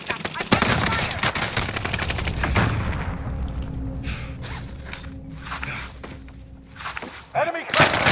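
Bursts of automatic gunfire in a Call of Duty: Vanguard Resurgence match on the Caldera map, dense rapid volleys up close for the first few seconds, then scattered shots and mechanical clicks beneath game ambience, with a final loud burst near the end.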